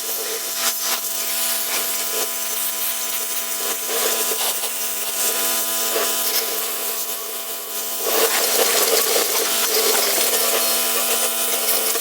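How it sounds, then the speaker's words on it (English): A small, cheap pressure washer blasts paint off a Toyota 4Runner wheel, a steady close hiss with a droning motor hum. It runs unbroken for the whole stretch and grows somewhat louder near the end. "I busted out this shitty little pressure washer I have. We're going to see if I can blast some of this off."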